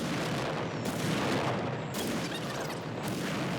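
Off-map artillery barrage in a video game, a dense continuous roar of overlapping explosions and booming impacts, loud throughout with fresh bursts landing around the one-second and two-second marks.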